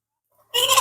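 Andijan black chickens, a mixed flock of hens and roosters, let out one sudden loud cluck close by after a near-silent start.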